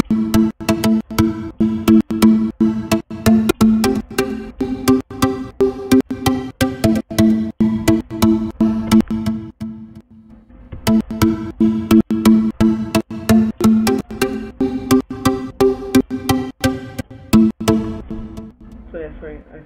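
Short plucky house synth notes, made in FL Studio 10 with the Harmless synth, bounce in a steady dance rhythm with a punchy beat underneath, loud and continuous, briefly thinning out midway before resuming.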